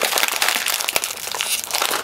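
A bag of kettle cooked potato chips is crinkled and handled close up, giving a steady, loud, crackling rustle with a few sharper crunches and no speech.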